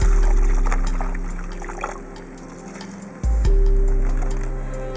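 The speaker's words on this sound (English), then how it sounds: "You add about 4 liters of water in the middle of the box." About 4 liters of water pour from a container into soil around tree roots in a planting box in the Dubai desert, a steady splashing gush that briefly stops and resumes, close and alone.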